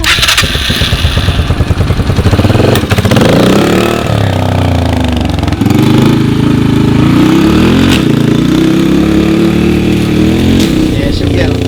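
A motorcycle engine revs and settles as the rider works the throttle, loud and close, the pitch climbing and dropping in uneven surges over a steady rough idle.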